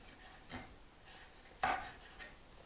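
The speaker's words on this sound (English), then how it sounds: "Right, let's just roughly chop these." Knife roughly chopping halved, deseeded tomatoes on a board for a sweet and sour tomato chutney: three soft, separate cuts, the middle one loudest and sharpest, with quiet pauses between.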